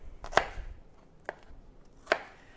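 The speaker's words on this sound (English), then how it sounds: "So I'm just going to dice this up." Three separate crisp knife chops through onion onto a cutting board, close and clear, irregularly spaced over a quiet background.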